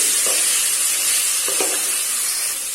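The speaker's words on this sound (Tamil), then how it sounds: "இப்போ இதை நல்லா வதக்கிடலாம்" Onion and tomato sautéing in a pan for chow chow butter masala make a dense, loud, hissing sizzle throughout, with a couple of soft clinks of a utensil on the pan.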